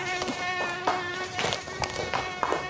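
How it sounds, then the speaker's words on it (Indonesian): A mosquito whines steadily in a classroom, a thin continuous buzz with a few faint background knocks, no talking over it. "Eh, ada nyamuk. Besar ni nyamuk."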